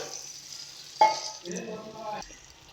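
Water poured into frying spiced masala for a katla fish roe curry gives a sudden loud hiss and splash that settles into a bubbling sizzle, close and alone.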